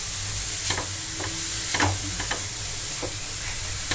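Carrot halwa gets stirred in a pan over a low, continuous sizzle, with a spoon scraping and knocking the pan several times at irregular intervals.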